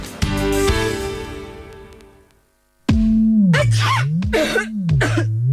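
A short musical jingle fades out, then a person coughs several times in quick succession over a sustained, wavering tone.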